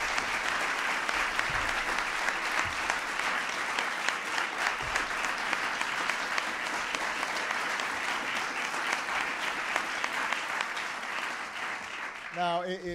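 A big, steady round of applause from an audience greeting someone's nomination, dense continuous clapping lasting about twelve seconds before a voice begins speaking at the very end.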